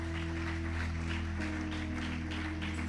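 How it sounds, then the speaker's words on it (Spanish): A church congregation applauds at a worship service, a continuous crowd clapping layered over a sustained low hum from the sound system, fairly loud and steady with no clear talking. "Un aplauso fuerte al Señor."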